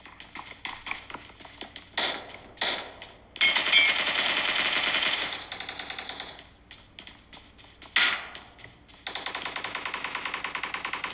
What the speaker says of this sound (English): you can hear all those gunfires and shots.